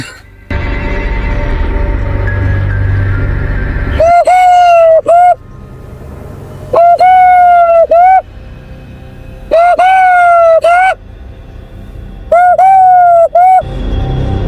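A man imitates a dove or cuckoo with his voice, giving four loud, close, repeated cooing calls separated by pauses, after a stretch of background noise.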